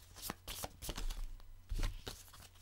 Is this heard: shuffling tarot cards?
yes